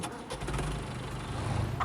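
An old vehicle engine on a farm starts and runs at an idle, a steady low rumble sustained throughout the short stretch with no one talking.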